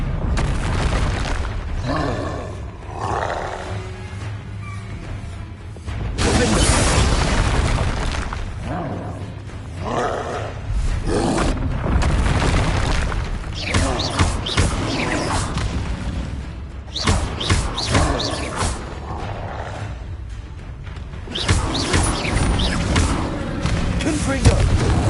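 Spell blasts in Hogwarts Legacy, repeated booming impacts and crackling bursts in quick succession, loud and close, with a voice calling out spell names over the din.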